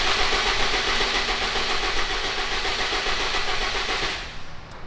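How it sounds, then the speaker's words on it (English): Subaru Impreza WRX STI bugeye with a failing fuel pump, its starter cranking continuously for about four seconds with a harsh, even mechanical whir close up, then cutting off without the engine catching. "I am gonna try and start it right now"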